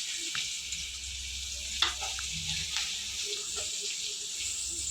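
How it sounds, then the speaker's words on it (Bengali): Chopped onion frying in hot oil with nigella seeds and green chilies makes a soft, continuous sizzle in a pan, with a few faint clinks of stirring. "এবার দিয়ে দেবো পেঁয়াজ কুচি।"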